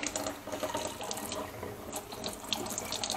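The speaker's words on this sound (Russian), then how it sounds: "О, пошла вода." Tap water runs through a newly installed kitchen drinking-water filter, a close, steady rushing stream broken by gurgling, sputtering bursts as trapped air is pushed out of the filter cartridges.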